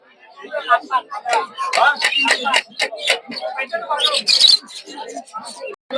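King pigeons and other birds squawk and chatter loudly in bursts amid busy market babble at a bird and pigeon market in Putia, close by.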